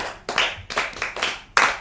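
A group of schoolchildren claps in bursts, with about five loud, rhythmic rounds of hand claps in quick succession, close and energetic.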